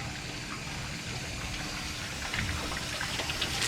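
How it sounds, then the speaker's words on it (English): Green tracer dye liquid poured into a puking skeleton Halloween display, a steady near gush of liquid throughout that swells slightly toward the end, with no talk. "green tracer dye is what I'm gonna pour in"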